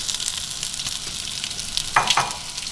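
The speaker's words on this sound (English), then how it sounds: "we're kind of waiting for our onions to saute just a little bit before we put in the next vegetables" Chopped onions sautéing in a hot pan for birria tacos, a steady close sizzle with a couple of brief stirring scrapes near the end, no talk.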